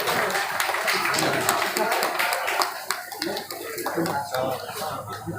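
Students give a welcome to a guest at a two-day international seminar at MV College Buxar with dense, steady clapping that runs loud and continuous throughout, with a few voices mixed in.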